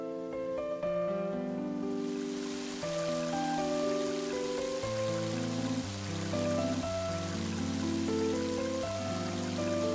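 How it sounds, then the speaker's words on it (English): Steady rain hiss in the video game Mother 3 starts about a second in and continues beneath sustained, shifting musical chords. "And now it's starting to rain."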